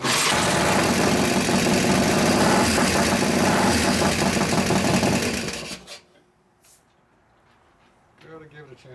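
A rebuilt 2001 Indian Scout motorcycle engine with an 88ci S&S big-bore overhaul runs with a loud, steady mechanical clatter for about six seconds, then cuts off, leaving quiet with brief talk.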